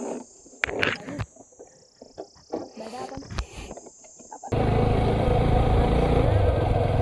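Motorcycle ride through the hill roads of Garhwal toward Gwaldam, past deodar trees: a loud, steady engine and wind roar begins abruptly midway and continues, after a stretch of people talking over quieter background sound.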